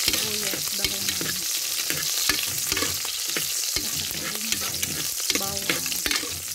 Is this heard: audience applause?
no